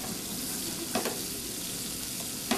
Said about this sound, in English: grease is popping